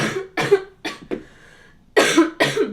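A person coughs in a series of harsh, close bursts: four quick coughs, a short pause, then two more forceful ones, with no talk.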